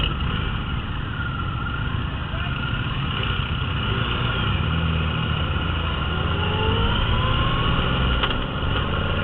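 Triumph Rocket III three-cylinder motorcycle engine running steadily and close, with a continuous low rumble and rising throttle tones that swell and ease over the whole stretch, wind rushing underneath.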